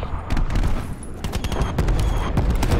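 Rampart 17 rifle fire in Black Ops 4 cracks out in rapid repeated bursts, loud and close, with explosions and battle noise mixed in.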